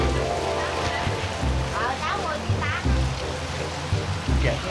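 Heavy rain falls with strong wind, a dense, loud, continuous hiss filling the scene while muffled voices talk underneath.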